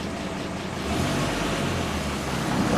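A 1960 Dodge Dart Seneca engine, cold and without a choke, turning over and running roughly, a low rumbling drone that grows slightly louder partway through, close by with no speech.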